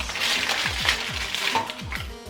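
Sugar and water cook in a pan for Karo cimpa, giving a steady bubbling sizzle with a run of soft, regular low knocks underneath.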